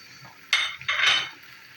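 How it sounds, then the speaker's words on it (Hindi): Beef goes into a pot of lightly golden-browned onions for haleem: two short, close clattering bursts with a brief hiss, then quiet. "अब मैं इसमें गोश्त डालूँगी"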